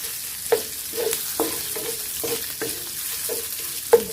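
Minced pork stir-fried with garlic in a pan, with a soft sizzle under repeated sharp scrapes and clanks of a spatula against the pan.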